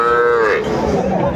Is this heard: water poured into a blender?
no